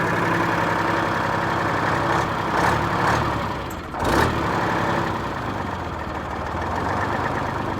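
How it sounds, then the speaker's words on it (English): A two-stroke Detroit diesel in an old grain truck, parked since 1983, idles low and loud with a steady rumbling drone throughout, plus a brief louder rise partway through. "Now we got a two-stroke Detroit running."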